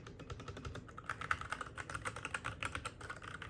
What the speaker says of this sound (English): This keyboard has a nice sound to it too.